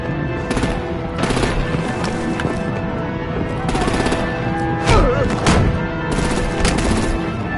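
Bursts of rapid gunfire and heavy artillery rattle through a Batman Telltale Series game battle, loud repeated volleys separated by short pauses, with character voices talking between the shots.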